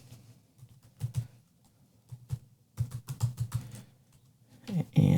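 Fingers tap out a command on a computer keyboard in irregular clusters of soft, close keystrokes, with short gaps between bursts and a louder clatter at the end.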